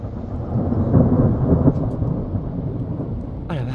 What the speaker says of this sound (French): Regardez-moi ça, cette vue sur les orages.